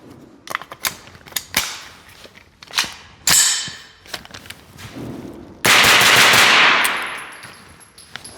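9mm shots go through a HUXWRX suppressor in a string of sharp, close cracks, some in quick bursts, while muffled metallic clatter and handling noise fill the gaps between shots.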